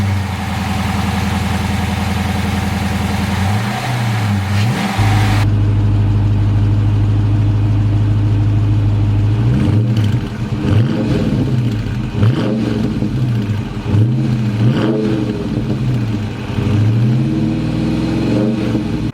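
A 2023 Dodge Charger R/T with its 5.7 liter V8 HEMI starts and settles into a deep, loud idle, then revs repeatedly in rising and falling blips, recorded close and alone.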